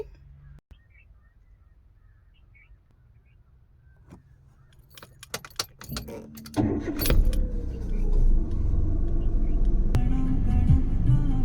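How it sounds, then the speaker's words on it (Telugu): A learner car's engine is started after keys jangle: quiet rattling and clicks, then the engine cranks and catches into a steady idle rumble, with a crow cawing faintly outside. "ఇప్పుడు ఇంజిన్ స్టార్ట్ చేయాలి"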